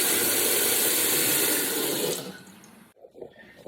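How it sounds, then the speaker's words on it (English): A hot-water tap runs steadily and loudly during a home inspection in Barcelona, Spain. The rush fades out after about two seconds, leaving quiet, faint clatter. "So I'll keep running water, hot water."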